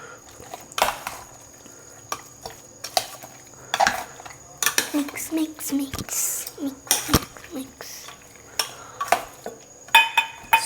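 Chicken kabab marinade being stirred in a bowl, with scattered scraping and clinking of a utensil against the bowl coming in irregular bursts, near and fairly loud, and a voice speaking at times.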